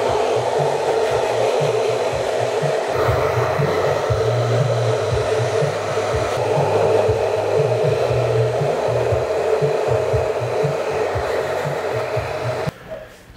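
A handheld hair dryer blows on hair during a men's haircut styled into a centre part, giving a loud, steady whirring roar that runs almost the whole time and cuts off near the end.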